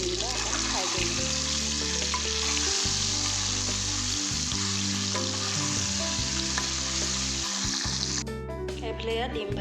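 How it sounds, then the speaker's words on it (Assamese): Boiled eggs frying in hot oil in a wok give a steady, close, continuous sizzle, with low, even background tones running beneath it throughout. "এতিয়া ডিমকেইটা অকণ ফ্ৰাই কৰি লওঁ।"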